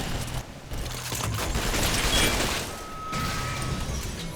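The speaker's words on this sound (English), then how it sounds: "Turret versus turret." Automated turrets trade fire in BioShock, a dense, sustained crackle of rapid shots and crashing impacts running steadily throughout, with brief mechanical whirs and no voices.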